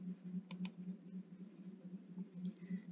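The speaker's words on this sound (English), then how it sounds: "Press the Enter key on your keyboard." An Enter key is pressed on a computer keyboard, giving two quick, soft clicks over a low steady electrical hum in a quiet room.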